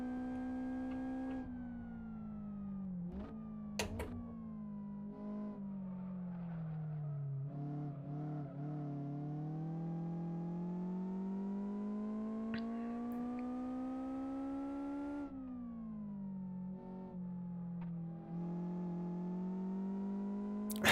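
A rear-wheel-drive, naturally aspirated 2-litre car engine in the Live For Speed racing simulator, droning steadily and rising and falling in pitch through gear changes over about twenty seconds, fairly quiet with no talk.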